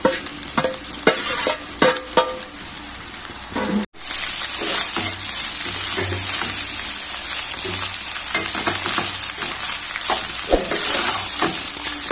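Rice and egg fry in a hot pan for egg fried rice, a loud, steady sizzle with spoon scrapes and knocks while stirring, briefly cut off once before resuming.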